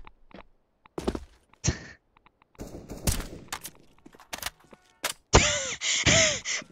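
Gunshots from an Overwatch match, scattered sharp cracks and short bursts mixed with thuds and in-game effect sounds, the last part a loud run of repeated blasts.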